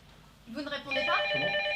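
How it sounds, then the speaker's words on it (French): A telephone rings in a stage comedy at the Comédie Française, its bright sustained electronic tone following a short spoken word, close and fairly loud. "Votre téléphone, vous ne répondez pas?"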